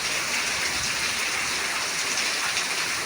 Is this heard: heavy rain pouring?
yes